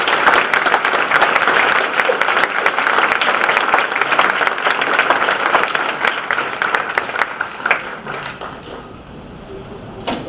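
Sustained applause from an audience at a university town hall, a dense steady wash of many hands clapping that thins slightly toward the end.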